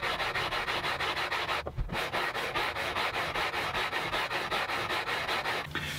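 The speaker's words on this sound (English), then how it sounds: "I can now radius the fretboard like I normally would." Sandpaper strokes rasp back and forth across a guitar fretboard with cured epoxy fret-marker dots as it is radiused, a steady rapid rhythm of close rubbing with one brief pause.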